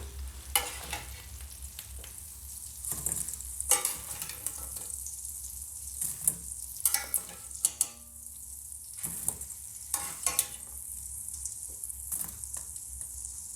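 Potatoes fry in hot oil with thyme, a steady close sizzle and crackle with bursts of spitting and the odd stir, no voices over it.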